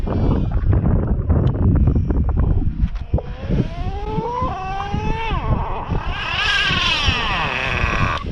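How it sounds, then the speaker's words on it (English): A small high-revving Traxxas Revo nitro RC car engine whines, its pitch climbing and dropping as it speeds up and slows, with heavy wind buffeting the microphone. "The engine was running pretty good."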